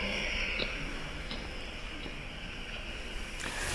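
Recorded radio signal from the first discovered pulsar, a steady hissing static with faint regular pulses ticking through it at even intervals, played back quietly with no voices.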